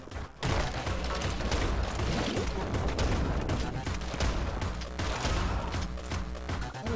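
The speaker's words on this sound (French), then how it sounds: "Il est vraiment compétent le fusil à pompe." Shotgun blasts and chaotic action sounds fill a session of the game Anger Foot, with loud repeated impacts and crashes over several seconds and a voice briefly talking.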